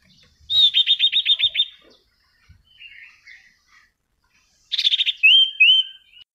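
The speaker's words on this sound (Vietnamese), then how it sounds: "các bạn có thể nghe anh hút cô hót này" A tiny hút cô songbird sings up close, with loud rapid trilled bursts followed by a quieter warble and a second trill that ends in clear whistled notes.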